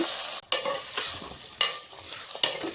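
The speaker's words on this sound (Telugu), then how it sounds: "ముందుగా మనం కలిపి పెట్టుకున్నాం కదా వంకాయ కూర, అవి పోసేసుకోవాలి." Brinjal curry is poured into fried onions in a hot pan and sizzles steadily close up, with scraping stir strokes at irregular intervals.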